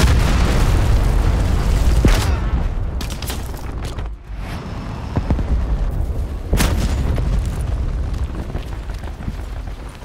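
A Hellstorm missile strike blasts through a Black Ops 4 match, loud booming explosions with bright broadband bursts near the two- and six-and-a-half-second marks over constant rumbling battle noise.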